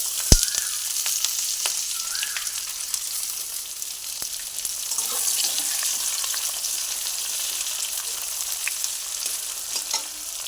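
A large onion fries in hot oil with bay leaves and whole garam masala spices, a loud, continuous sizzle with occasional stirring clicks and no voices.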